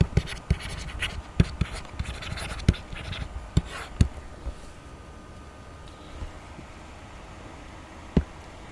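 Chalk or marker scratches and taps on a board as given data for a class 10 physics numerical is written out, a run of close, irregular strokes and ticks that thin out toward the end, with one last sharp tap.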